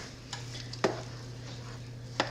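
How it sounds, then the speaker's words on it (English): Pectin being stirred into a strawberry jam mixture in a pan, heard as quiet spoon scrapes and a couple of sharp taps against the pot over a steady low hum. "But we're just gonna stir this in."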